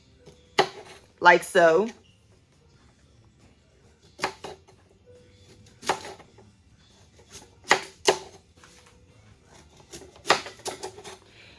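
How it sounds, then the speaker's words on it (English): Sweet potatoes are sliced into rounds with a kitchen knife, giving several separate sharp chopping thuds spaced a second or two apart, with a person speaking briefly near the start. "we're going to cut them to about 1/4 to 1/2 inch rounds"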